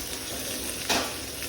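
Butter, about a tablespoon, sizzles and fries in a hot pan while backstrap or tenderloin is being cooked, a steady close crackle with one brief louder hiss partway through; no talking.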